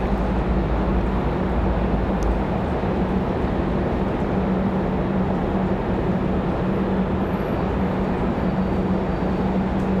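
A Public Airways airliner, flight 4658 from JFK, roars steadily at Raleigh-Durham airport, a dense, constant jet rumble with a low droning hum and no voices.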